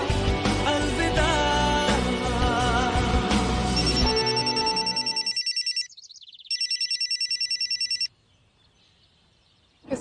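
Music cuts off as a phone starts ringing with a bright, repetitive electronic ringtone, loud and close. There is a short gap in the middle, then it rings again before going quiet.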